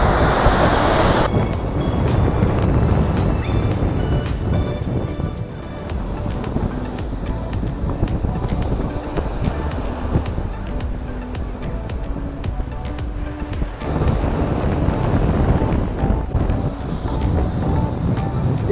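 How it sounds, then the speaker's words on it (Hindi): Atlantic Ocean surf at Virginia Beach, a loud continuous rush of breaking waves mixed with gusting wind buffeting the microphone, rising and easing through its length with no clear speech. "अटलांटिक ओशन की लहरें हमने छू ली।"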